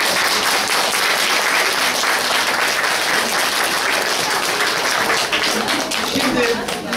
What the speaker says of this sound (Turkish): Öğretmeninize kocaman bir alkış.